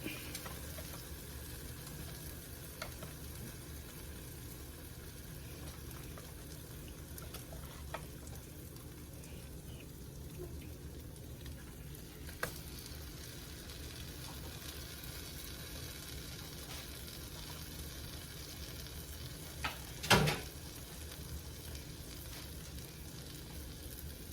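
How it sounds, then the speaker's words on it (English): French toast frying in a hot skillet gives off a low, continuous sizzle that stays faint and even, with an occasional soft click and one brief clatter near the end. "so you can cook both sides until they're golden brown"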